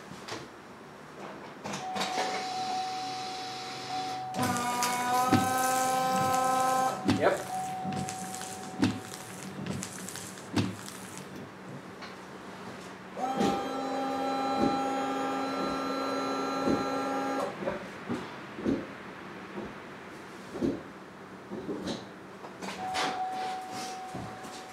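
Windshield washer pumps on a 2005 Chevrolet Suburban being tested after a leaking reservoir repair, several bursts of whining electric pump hum with spraying, each lasting a few seconds, separated by pauses and small clicks.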